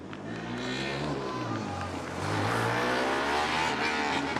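Formula Student race cars circling a track during a 2019 UK event, one overtaking another, their engines droning loudly and steadily with a rising pitch as the passing car draws nearer.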